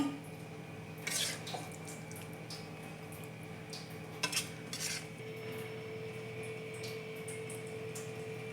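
Chicken fry goes from a pan into a bowl, with faint clinks and scrapes of utensils against cookware, a few sharper knocks at intervals over a quiet kitchen hum.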